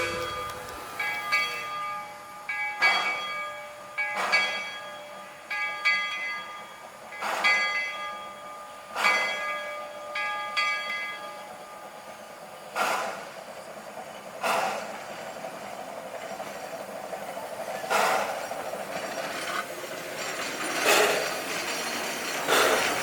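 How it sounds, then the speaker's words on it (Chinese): A 28-ton Class B Shay geared steam locomotive, built by Lima in 1920 and converted from narrow to standard gauge, rings its bell in measured strikes in a forest setting, with a steady rumble underneath. "是1920年由利马机车厂制造的28吨 B 级卸式机车。"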